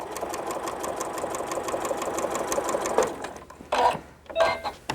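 A home sewing machine runs a steady, rapid stitch while sewing a baby blanket, stopping needle-down as the presser foot lifts for an auto pivot at a corner, then a few short bursts of stitching resume.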